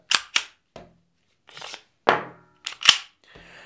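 An airsoft Glock 17 Gen 3 pistol by GHK with a CNC slide, its empty magazine inserted and the slide locking back, gives a series of sharp plastic-and-metal clacks and snaps spaced irregularly, close up in a quiet room.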